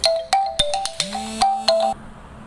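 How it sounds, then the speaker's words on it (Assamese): A phone ringtone for an incoming call in a home kitchen, a loud repeating electronic melody of short bright beeps in a steady rhythm, close by, with no talk over it. "ভিডিঅ' কৰি থাকিলে কিমান যেন ফোন আহে, বাপৰে।"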